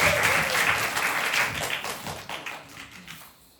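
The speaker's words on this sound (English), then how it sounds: "Give a big round of applause to Achyuta Keshava." Applause from a youth retreat audience, a lively burst of many hands clapping close by that slowly tapers off and trails away toward the end.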